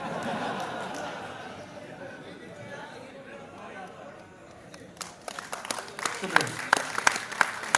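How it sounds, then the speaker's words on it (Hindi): An audience at an Urdu poetry recital applauds in a broad wash of clapping and murmuring that fades, then gives way to scattered sharp individual claps and chatter. "आपने जो तालियां बजाई हैं"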